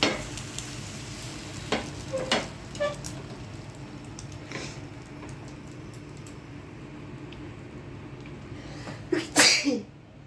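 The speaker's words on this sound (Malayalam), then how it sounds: "രാവിലെ ഭയങ്കര തുമ്മല് കേട്ടോ" A person sneezes once, sharp and loud, near the end, in a home kitchen where egg is being cooked, with faint sizzling and stirring heard before it.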